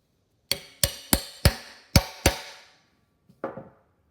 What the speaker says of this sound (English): I'm going to take my spanner wrench and tap into the holes on top